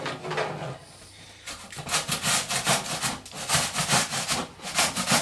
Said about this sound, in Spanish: Vamos a proceder a rallar el pepino en el rallador.